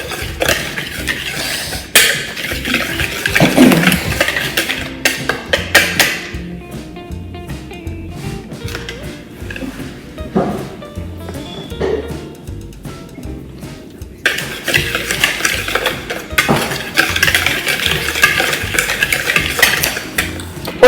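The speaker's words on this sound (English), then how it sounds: "Okay, now I'm just gonna mix this." Dry ingredients for low-carb keto donuts are stirred in a bowl, giving repeated clinks and scrapes of a utensil against the dish. The bursts come in loud stretches with a quieter pause in the middle, and no one speaks.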